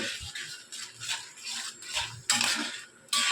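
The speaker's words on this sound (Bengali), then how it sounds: "এর সঙ্গেই আমি দেব পেঁয়াজ মেথি খুব ভালো করে ভেজে নেব" A spoon scrapes and clinks in a pan as onion and fenugreek seeds fry for a homemade hair oil, a close, irregular run of metallic stirring and rattling with a few louder bursts, no voices over it.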